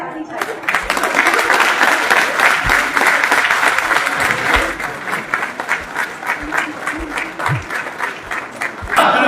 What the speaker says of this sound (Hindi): आप सभी की तालियों की आवाज यहाँ तक आ जानी चाहिए